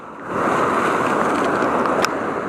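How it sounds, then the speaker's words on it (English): Steady broadband wash of ocean waves and surf, loud and continuous, with wind buffeting the microphone throughout and a brief sharp knock near the end. "Got some waves here."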